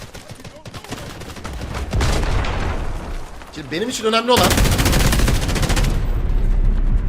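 Rapid bursts of gunfire in the video game Delta Force, loud and continuous, with someone talking over the shooting throughout.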